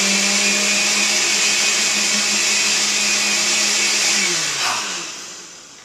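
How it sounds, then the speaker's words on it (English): A loud blender whirs steadily, the sound effect for blending a kitten in the video game Kittens In A Blender, grinding on evenly before winding down and fading near the end. "Now, kitten in blender, are you ready? Here we go for the blending."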